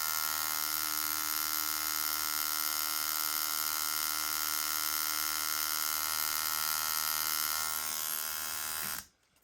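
A Dan Kubin Sidewinder 7.3 tattoo machine runs with a loud, harsh, steady electric buzz heard close up, holding the same pitch for several seconds before it cuts off abruptly, with no voices.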